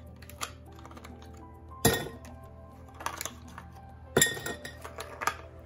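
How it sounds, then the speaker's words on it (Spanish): Ice cubes dropped into a large drinking glass while making a pink iced drink, several distinct sharp clinks and clatters spaced a couple of seconds apart, close and clear over a quiet background. "Y le puedes poner los hielos que tú quieras."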